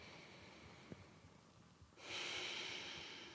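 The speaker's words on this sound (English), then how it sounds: "Take a few deep breaths here." Slow, deep breathing during a yoga class, with a soft sniff-like inhale early on, then a long, breathy exhale swelling in the second half, quiet and close, with no talking.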